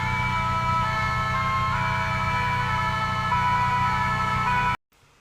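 An ambulance siren wails continuously and loudly, close by, then cuts off abruptly near the end.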